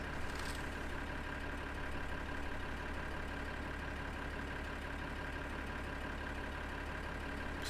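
Tractor engine in Farming Simulator 2013, a steady, continuous drone heard alone without talk.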